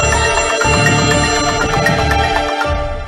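A phone ringtone plays for an incoming call, a loud bright electronic melody of repeating tones that continues throughout and fades slightly at the end.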